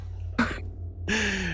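Two short coughs or throat-clears from a voice during a checkup scene at Brookhaven Hospital in Silent Hill 2 on PC, separated by a pause over a steady low hum, the second one longer and more drawn out.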